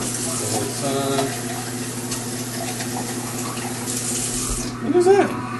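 Tap water runs steadily into a sink while canned beans are rinsed for Puerto Rican beans, a continuous close splashing stream with a brief louder gush near the end.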